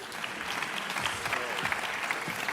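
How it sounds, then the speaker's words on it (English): A conference audience bursts into applause as a student startup team is welcomed onto the stage. The clapping is sustained and fairly loud, with a few voices faintly mixed in. "Please give them a round of applause."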